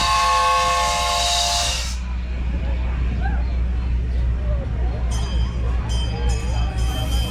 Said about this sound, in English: Little train taking off.